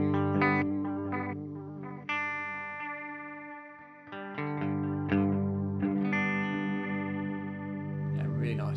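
Guitar through a Hologram Chroma Console pedal on its Cascade delay setting, sustained chords trailing into repeats that degrade, break up and waver in pitch, moderately loud with a few new chords struck over the decaying echoes.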